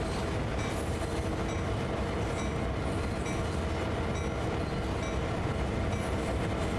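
A diesel freight locomotive in Train Sim World 2 works under throttle up a slight grade on the Sand Patch line, a dense, loud, continuous engine roar mixed with rolling wheel noise and rail clatter, with no talk.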